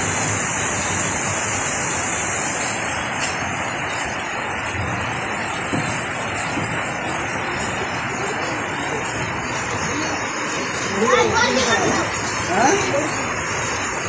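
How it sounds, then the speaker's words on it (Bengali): Steady rain pours down in a village, a dense, even hiss that fills the whole stretch at fairly loud level, with brief voices and small sounds breaking through near the end. "এদিকে বৃষ্টি নামা শুরু হয়ে গেছে"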